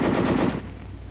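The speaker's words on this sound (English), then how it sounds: "Weapons giving automatic fire will fire continuously as long as pressure is applied to the trigger" A rapid burst of automatic gunfire rattles continuously for about half a second, then its echo fades into a low rumble.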